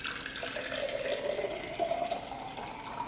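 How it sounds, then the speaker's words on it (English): A small amount of water poured into a cup for propagating a plant, a continuous gentle trickle that rises slightly in pitch as it fills, heard alone at moderate level. "I just keep a little bit of water in the bottom of the cup"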